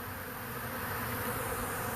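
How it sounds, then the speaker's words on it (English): A honeybee swarm on a sunny day, moving into a custom barrel hive, makes a steady, dense buzz that holds evenly loud throughout without pause. "This is a swarm of bees."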